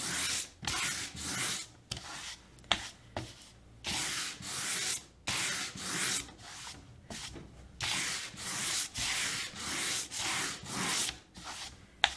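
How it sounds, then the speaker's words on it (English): Painted MDF board hand-sanded in a steady series of rough, scratchy back-and-forth strokes, close and fairly loud, with short pauses between passes and no talk. "So we're gonna just sand this to give it a little bit more rustic look."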